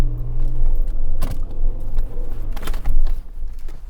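A stock Suzuki Jimny in four-wheel-drive low range with traction control off runs at full throttle in first gear over hard off-road terrain, a loud steady engine drone with bumps and knocks throughout and no talk.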